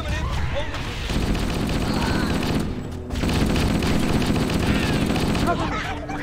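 Steady bursts of gunfire from stationary guns in the Halo: Combat Evolved Assault on the Control Room battle, dense and continuous over several seconds, with a short lull around the midpoint and voices speaking over the combat.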